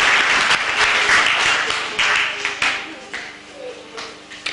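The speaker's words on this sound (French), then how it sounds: "Applaudissons pour le Seigneur." A church congregation claps together in praise during a bilingual service, a loud, dense burst of applause that gradually tapers off, with a few sharp individual claps and a faint tone lingering beneath.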